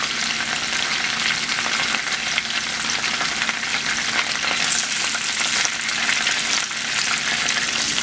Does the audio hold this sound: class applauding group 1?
no